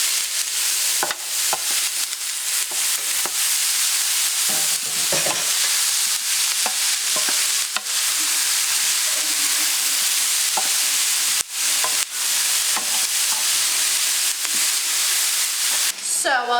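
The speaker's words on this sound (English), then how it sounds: "So while Izzy is stirring up the leeks that are sweating" Leeks sweat in a pan for leek and potato soup while being stirred, a loud, steady sizzle and hiss with repeated scraping clicks from the spoon throughout.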